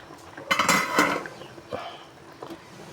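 A metal lid clatters onto a pot of milkfish sinigang with mustard leaves, giving a couple of close, bright clanks followed by a few softer clinks as it settles.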